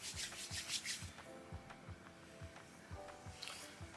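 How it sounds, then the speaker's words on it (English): Hair product is worked between two hands before styling natural hair, producing a close, soft, rhythmic rubbing that repeats roughly twice a second. "put it all up on the hands."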